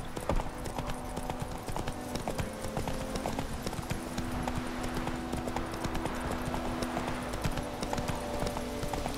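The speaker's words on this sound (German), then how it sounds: "Dein Pferd verliert keine Ausdauer, wenn es der Straße automatisch folgt." A horse trots along a road in the video game The Witcher 3, its hooves clip-clopping in a steady, continuous rhythm at close range, with no talk over it.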